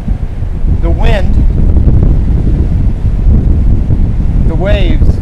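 Strong wind buffets the microphone on an island shore in a continuous loud rush, with two brief chirping bird calls rising above it.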